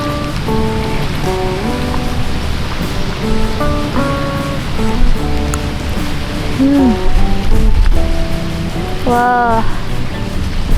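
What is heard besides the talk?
strong wind and waves on a river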